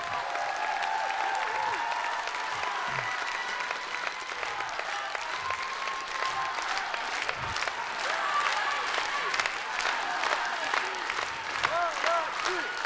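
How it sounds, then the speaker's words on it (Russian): A large audience gives sustained, thunderous applause for an extreme acrobatics team at a grand final, dense clapping with cheers and shouts throughout. "Хасак, Казахстан, бурные аплодисменты."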